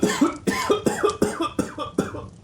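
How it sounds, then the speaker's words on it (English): A rapid fit of coughing, five or six harsh coughs in quick rhythmic succession, close and moderately loud. "She hears another cough"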